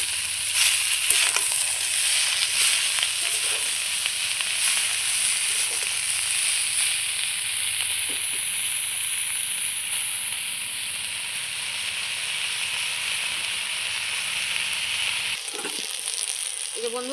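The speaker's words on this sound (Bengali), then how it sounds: "এইবার আমি শাকগুলো দিয়ে দেবো" Leafy greens sizzle in a wok with fried potato and eggplant, a steady close hiss of frying in oil that runs continuously with a few stirring scrapes, stopping abruptly near the end.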